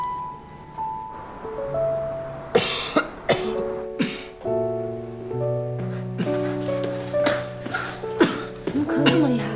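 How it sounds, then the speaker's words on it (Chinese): Repeated harsh coughs from a person who sounds ill late at night at home, arriving in irregular bursts at close range over soft background music. "怎么咳这么厉害啊？"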